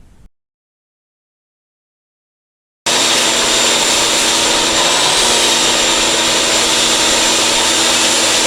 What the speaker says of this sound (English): take the vacuum cleaner and start cleaning this thing up